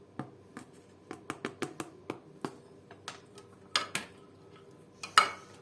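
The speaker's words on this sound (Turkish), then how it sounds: "Mısır ununu da tekrar karıştırıyoruz." A spoon taps and clinks against a bowl or pot while stirring a spiced tomato-paste sauce thickened with corn flour, sharp separate knocks at an uneven pace, close and quiet.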